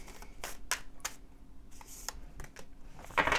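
Tarot cards are drawn and shuffled from a deck in a series of quick, dry clicks and flicks, close and fairly quiet, with a rustling flurry at the end.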